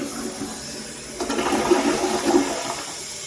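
A modern toilet flushes nearby: a steady rush of water builds, then a louder surging gush and swirl as the bowl drains, with no talking.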